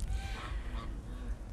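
Geese honking in a rural yard near their shed, a close, continuous noisy cackle of overlapping calls with no talking.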